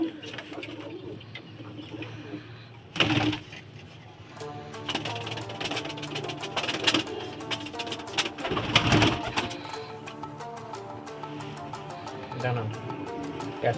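Pigeons coo softly in a loft among handling sounds and wing flutters, the cooing mostly under someone talking nearby.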